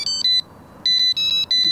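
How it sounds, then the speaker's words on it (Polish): An electronic fishing bite alarm, just switched on, gives loud, close, high-pitched beeps in short repeated bursts with brief gaps between them, sounding alone over faint outdoor background. "Teraz zakładamy, że tak powiem, sygnalizator."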